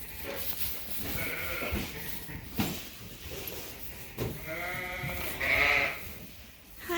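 Sheep crowd together at a shearing chute on a farm, several bleats overlapping up close, one sharp bleat rising above the steady pen noise and shuffling.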